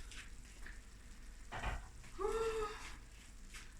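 Potatoes go into a pan with chicken wings cooking in spices, giving a soft sizzling and frying hiss. It is faint and close, with a small swell of crackle as the food settles and some quiet stirring noise.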